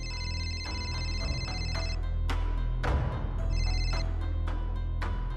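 A telephone rings in a Marathi TV drama scene, its repeated bell-like tones sounding in steady bursts over a background music bed, close and clear with no talk.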